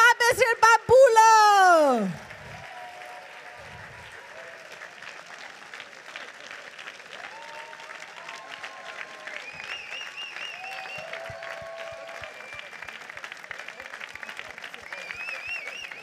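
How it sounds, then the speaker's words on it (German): Political rally crowd in Hannover applauds steadily after a short burst of loud speech at the start, with scattered whistles and cheers audible through the clapping. "Einen großen Applaus."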